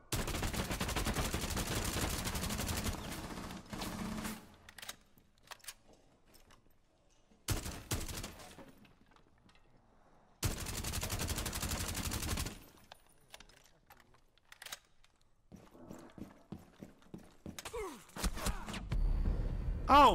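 Loud bursts of automatic gunfire in a multiplayer shooter game, fired through a wall, come in several long volleys separated by short pauses, with scattered single shots and a final heavy burst.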